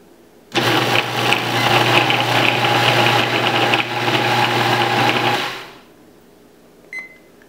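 A food processor whirs steadily for about five seconds as it blends mocha coconut butter, a loud, even motor drone with a grinding buzz, then cuts off abruptly into near silence with one small click afterward.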